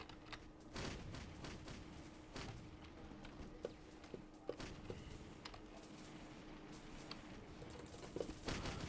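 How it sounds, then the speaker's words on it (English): Video game anti-aircraft guns fire into the sky in a rapid, uneven fusillade of sharp bursts, heard faint and somewhat distant with a steady background tone beneath. "To think how much anti-aircraft fire we're having to shoot into the sky."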